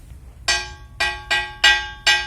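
Five struck hits on a broken church bell in a bell museum ring out one after another at a steady pace, each a sharp clangy attack that fades fast, close and fairly loud.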